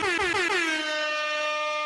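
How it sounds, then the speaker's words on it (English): An air horn blasts once, loud and close, holding a brassy, steady tone for nearly two seconds before cutting off. "Air horn."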